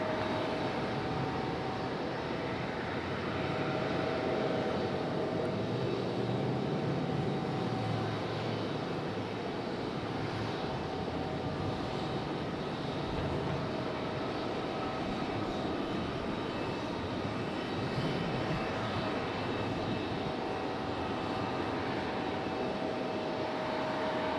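A Frontier airliner climbs out after departure from Raleigh-Durham International and banks left, its steady jet roar holding at a fairly constant level for the whole span, heard from the ground at a distance with no talking.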